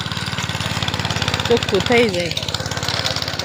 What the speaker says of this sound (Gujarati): એમાં ટ્રેક્ટર હાકે છે